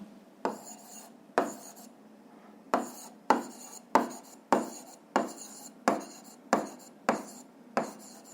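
A pen scratching on paper while a physics problem is worked out, a series of about a dozen short rhythmic scratching strokes, evenly spaced and close, with no talking.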